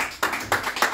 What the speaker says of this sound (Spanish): chicos, un aplauso.